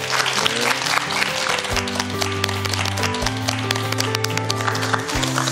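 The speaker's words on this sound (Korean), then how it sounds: "다시 한번 박수 부탁드릴게요" An audience applauds Minister Jeong Se-hyun at a talk on unification education, steady clapping running beneath a sustained low musical tone.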